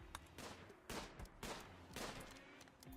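Machine gun fire in the colony strategy game RimWorld, heard as several rapid bursts of shots spread across a few seconds, fairly faint with no talking.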